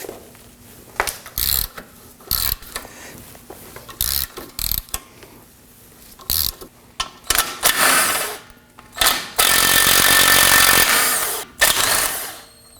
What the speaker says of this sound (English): 17mm on the two nuts, 17mm on the bolt head. Let's loosen and remove these.